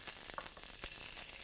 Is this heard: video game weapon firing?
no